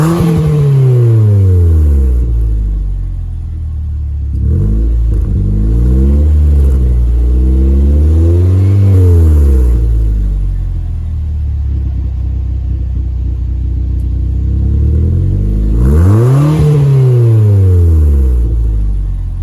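A turbocharged Mazda Protege5 engine revs repeatedly through a newly installed exhaust, rising and falling in pitch through a deep, loud rumble, with several distinct throttle blips.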